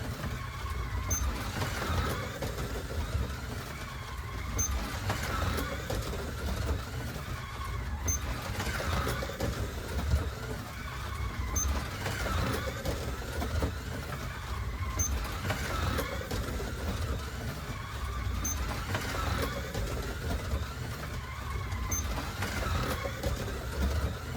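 A Scalextric Dodge Challenger slot car laps a plastic track in a steady loop, its small motor whirring continuously with a brief rattling swell as it passes close roughly every three and a half seconds, repeating about seven times.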